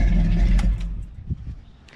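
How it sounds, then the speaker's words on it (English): A running engine fitted with a mechanical fuel pump, loud and close, with its low rumble dying away after about a second and leaving only quiet clatter and fading mechanical noise. "Let me shut the engine off and show you what happens."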